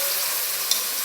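Chicken curry masala with chopped tomatoes just added sizzles steadily in the pan, a loud, even hiss of frying throughout the short moment.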